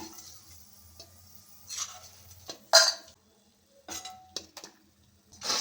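Fried bitter gourd pieces are moved from a pan into a bowl, making close, intermittent metallic scrapes and clinks of a spoon against cookware, separated by short quiet gaps, with no voices.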